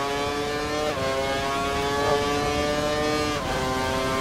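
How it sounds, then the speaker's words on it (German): An F1 car engine in the racing game F1 2012 screams at full revs, a loud, steady high-pitched whine with a couple of brief dips as the gears shift. "Er nutzt die volle Drehzahl."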